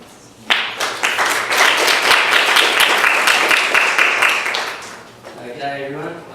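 A crowd claps steadily for a presenter at a Regional Art Gallery event on inclusive art classes for people with disabilities and mental health issues. The dense applause starts sharply, holds for about five seconds, then fades as a voice begins talking.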